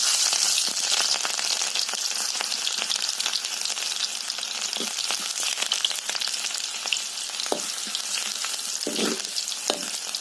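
Jabra, a fried dish, sizzles loudly and continuously in a hot wok, a dense crackling hiss with occasional stirring scrapes and pops throughout, with no talk.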